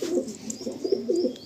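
A high flyer pigeon coos in a soft, repeated rolling pattern close by, with a faint higher chirp or whistle above it.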